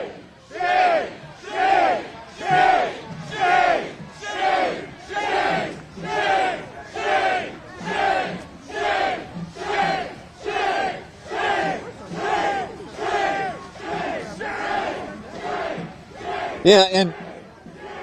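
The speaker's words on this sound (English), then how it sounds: "And now you're hearing the chants of shame" A protest crowd at a Minneapolis intersection chants "shame" over and over in a loud, steady rhythm of about one shout per second, with a brief sharp burst of noise near the end.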